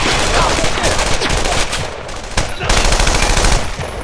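Machine gun fire in the World War II shooter game Brothers in Arms: Earned in Blood, a loud, dense, continuous rattle of rapid shots with a short lull midway, filling the whole stretch.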